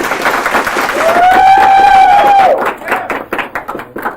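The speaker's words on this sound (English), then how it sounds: "I would love for you all to give a round of applause for tonight's wheel spinner, KCSU's very own David the Moose DeMuth." An audience at a college television game show claps and cheers for the night's wheel spinner, with steady applause, a loud sustained whoop in the middle, and scattered claps fading out at the end.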